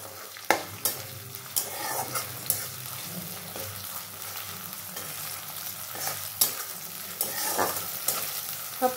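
A small tomato frying in a pan over raised gas heat, a continuous sizzle broken by repeated scraping stirs of the spatula every second or so, close and clear, with no talking.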